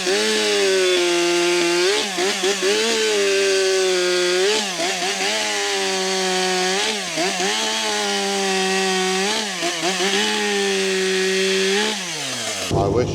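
A Husqvarna 564 XP or STIHL MS 400 chainsaw cuts up small logs, its engine roaring loud and close with repeated pitch dips as it bites into the wood, then revving down at the end.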